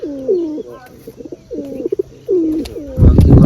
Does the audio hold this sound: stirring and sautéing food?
no